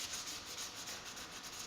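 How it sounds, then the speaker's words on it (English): Light sanding with 400 grit sandpaper over the glued joint of an acoustic guitar bridge, a soft continuous close rubbing hiss with a gentle back-and-forth texture and no talking. "I'm going to use a little bit of 400 grit sandpaper and just give it a light sanding over the top"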